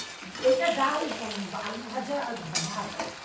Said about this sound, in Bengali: এসে দেখি মামুনি এই বড় কড়াইয়ের এক কড়াই আলু ভাজা বসিয়েছে